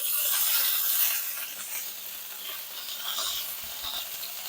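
Steak frying in a pan, a steady broadband sizzle that is loudest at first and eases slightly, heard close with faint stirring or scraping near the end and no talk.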